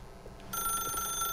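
A telephone in The Stanley Parable video game starts ringing after a quiet moment, a bright electronic ring that comes in suddenly and holds steady, fairly close and alone.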